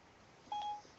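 A single short telephone keypad tone rings out as a phone number is dialed, clear against faint background noise, with no talk around it.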